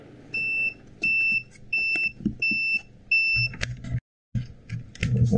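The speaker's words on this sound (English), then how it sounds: "There's my test meter beeping." Repeated electronic beeps from a test meter checking continuity on a subwoofer's RCA audio-input jacks, five steady tones in a row with short gaps, followed by handling clatter and rustling.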